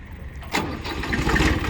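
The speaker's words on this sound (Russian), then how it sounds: "Сейчас будем запускать, проверим погрузчик, проверим, как работает двигатель." A Hinomoto E2604 tractor fitted with a front loader cranks and its engine catches, settling into a steady close rumble after a brief starter burst.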